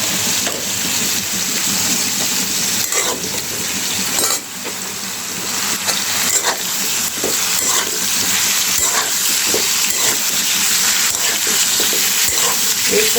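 Eggplant and potato fry lightly in oil in a pan, a loud, close, continuous sizzle broken by occasional stirring clatter.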